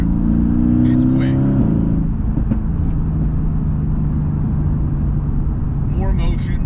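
A sports car's engine drones steadily during a test drive, its tone dipping once as if shifting gear, with a person talking over the cabin rumble throughout.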